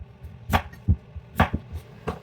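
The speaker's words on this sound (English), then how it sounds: "So here I'm just chopping off the ends." A knife chops the ends off fresh beets on a cutting board, giving about five sharp, close thuds at irregular intervals, with quieter clicks between them and no voices.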